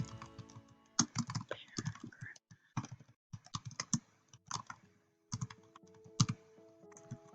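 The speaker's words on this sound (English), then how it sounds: "And then type in your paragraph" Close keyboard typing as a paragraph is entered, heard as bursts of quick clicky keystrokes separated by short pauses, alone with no voice.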